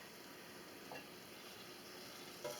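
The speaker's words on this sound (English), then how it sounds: "So now I'm going to put them in my frying pan over here" Poke salad greens frying in a frying pan give off a steady, close sizzle throughout, with a couple of faint clinks or stirring sounds.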